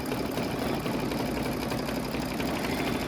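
A sewing machine runs continuously, sewing a triple stitch on a raw edge applique, a close, even mechanical hum and rapid needle patter with no talk.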